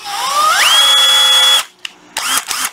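A Makita cordless drill switched to hammer mode spins up with a rising whine. It holds a loud, steady high tone for about a second, then cuts off, followed by a few sharp handling clicks.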